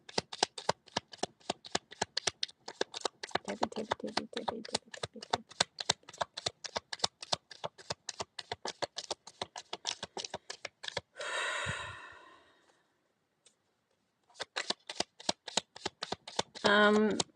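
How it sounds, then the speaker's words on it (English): Rapid riffling of playing cards being shuffled, a long run of crisp flutters near the mic, then a brief pause and another quick shuffle. "I'm just going to shuffle them back in."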